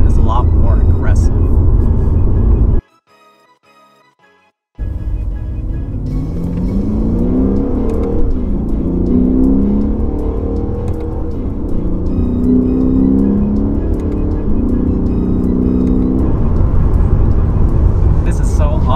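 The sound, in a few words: Lexus RC F engine revving in manual Sport Plus mode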